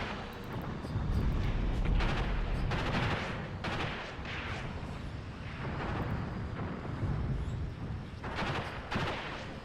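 Troops pour sustained gunfire and artillery into a modern battle between South African and Angolan forces in a war game, a dense continuous roar of overlapping shots and booming blasts with no talk.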